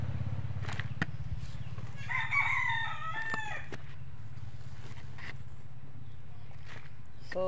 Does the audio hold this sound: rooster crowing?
yes